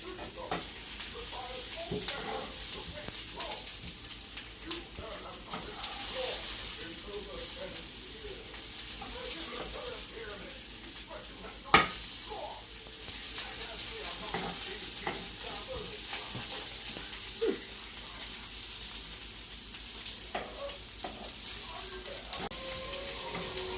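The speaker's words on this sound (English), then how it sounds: "So keep on flipping and frying once it's golden brown." Lentils fry, sizzling and crackling steadily in a hot pan, with occasional stirring clinks and a sharp pop partway through.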